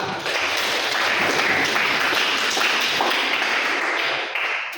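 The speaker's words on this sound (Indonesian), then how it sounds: "tepuk tangan untuk kita semua" Steady applause from a classroom audience after group presentations, continuous dense clapping that fills the whole stretch, close and loud, with no talk over it.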